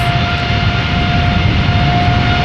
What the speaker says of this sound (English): let's have a look at the landing of Silkway West 747-800 arriving from New York JFK